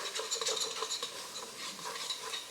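Turkey meat sauce with onions and garlic caramelizes in a pan, giving a faint, steady sizzle with soft stirring scrapes. The sound stays quiet and continuous, and no one speaks.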